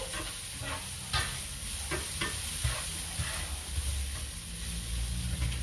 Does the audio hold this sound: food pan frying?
yes